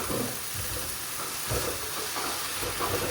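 Annatto (atsuete) and fish sauce (patis) go into a Filipino sauté, sizzling and frying steadily in the pan with soft stirring throughout, with no voices.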